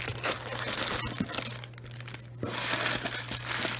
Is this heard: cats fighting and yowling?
no